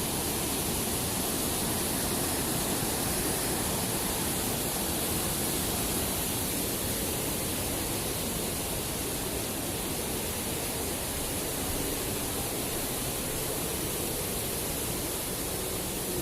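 A waterfall in a nature setting roars as a dense, constant wash of broadband noise, loud and unbroken, with no voices.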